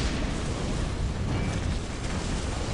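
A grenade explosion in the strategy video game Dawn of War Soulstorm roars as a loud, sustained blast with dense low rumble lasting the whole moment, no voices.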